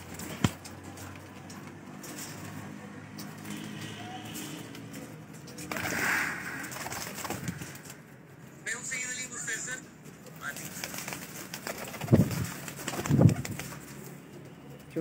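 Pigeons on a rooftop coo softly, with bursts of flapping wings and scattered ambient noise, while someone talks at times in the background.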